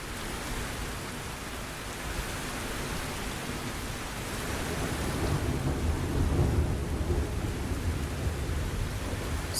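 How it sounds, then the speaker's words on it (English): A dense cinematic rain layer for an abandoned scene: steady heavy downpour hiss with a deep rumbling undertone that swells slightly toward the middle, continuous and enveloping with no voices. "This is a rain layer entirely."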